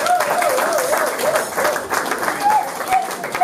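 A church crowd at a fifth birthday celebration for a child applauds continuously and loudly, dense clapping mixed with cheering and a voice that rises above the noise.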